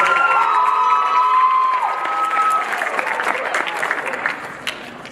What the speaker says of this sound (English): Can we just give Jen another round of applause?